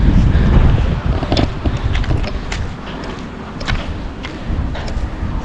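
Strong gusts of wind buffet the microphone with a steady, loud roar at the Chathurangapara hilltop viewpoint in Idukki, Kerala, with no voices.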